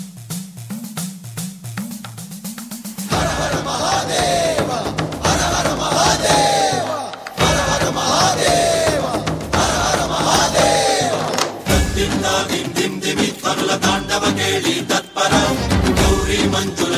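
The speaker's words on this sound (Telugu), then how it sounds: "ఒకసారి గట్టిగా చప్పట్లతో మన సంస్కృతికి వెల్కమ్ చెప్తామా?" A large crowd at a movie audio launch event roars and cheers loudly and continuously to welcome a performer, after a few seconds of quieter tonal sound at the start.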